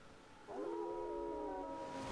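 A single drawn-out wolf howl in the video game Elden Ring, rising then holding a wavering tone over a faint background hum, somewhat distant and soft.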